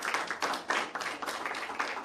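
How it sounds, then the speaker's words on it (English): A round of applause at a county meeting on budget and parks decisions, a short burst of steady clapping from a modest crowd, fairly close and uninterrupted, with no voices over it. "we would love to give a round of applause for both Bert and Adrian."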